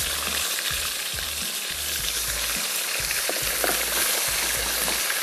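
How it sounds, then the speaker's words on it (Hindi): Chicken pieces frying in hot vanaspati ghee give off a steady, loud, broadband sizzle. A low, rhythmic thumping runs underneath it, and no one speaks. "चिकन डाल के फ्राई करेंगे।"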